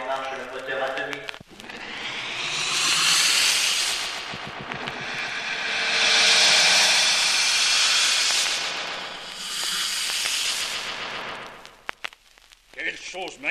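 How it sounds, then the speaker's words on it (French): The atomic engine of the moon rocket in a Tintin cartoon roars back to life as a swelling, hissing rush that surges in three broad waves, loud and sustained, before fading out. "Remettez en marche le moteur atomique."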